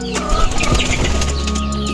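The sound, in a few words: banded pigeons cooing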